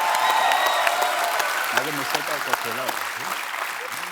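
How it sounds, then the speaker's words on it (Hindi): Studio audience applause for Dharmesh on a Hindi comedy talk show, a broad steady wash of clapping that runs the whole time under a voice speaking over it. "धर्मेश के लिए जोरदार तालियां यार।"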